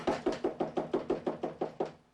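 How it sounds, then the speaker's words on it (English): Nine firm knocks on a door by a police sergeant, evenly paced and close, sounding alone with no talk. "A sergeant who's known the prosecutor for more than 20 years knocks on the door."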